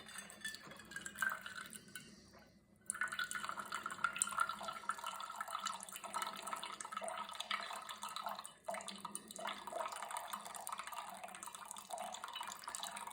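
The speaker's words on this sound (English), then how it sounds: "The hot water is going to start any second." A Cuisinart single-serve coffee maker runs hot water, a faint, steady trickle and gurgle with soft drips and a brief pause partway through.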